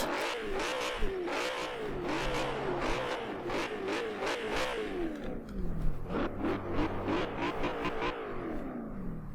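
Lexus IS F engine in Forza Horizon 4 revving hard, pitch sweeping up and down through repeated shifts, loud and steady with a brief dip near the end.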